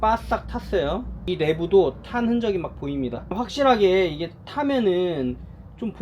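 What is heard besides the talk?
No distinct noise like a dog, phone or traffic.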